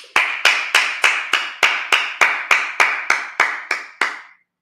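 A church congregation claps together during a Sabbath service, about twelve even, sharp claps in a steady rhythm before stopping abruptly, with no talking.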